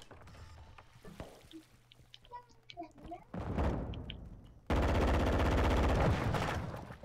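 Gunfire in Call of Duty Modern Warfare 2, scattered shots and mechanical clicks giving way to a sustained loud burst of automatic fire, with players talking.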